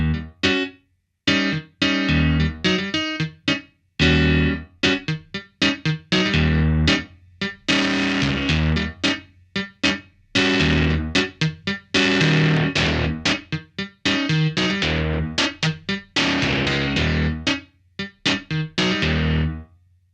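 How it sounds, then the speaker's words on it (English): A CP-70 V electric piano played through distortion at the front of the signal chain: choppy, punchy chords and notes with a gritty, fuzzy overdriven tone, loud and up close with short gaps between phrases. "We can put the distortion in front of our chain to overdrive the signal"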